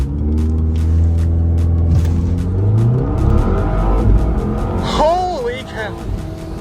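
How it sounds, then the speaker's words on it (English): A 2018 Volvo V60 Polestar launches hard from a standstill, its engine building in a rising, revving roar with possible tire noise, while people talk excitedly over it near the end. "let's try launch control."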